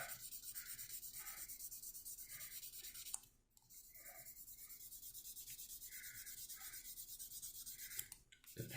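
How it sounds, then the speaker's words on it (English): A wooden spoon is hand-sanded with 400 grit sandpaper in close, steady rubbing strokes, a rhythmic scratchy swish that pauses briefly partway through and then resumes. "We're going to sand this spoon with 400 grit."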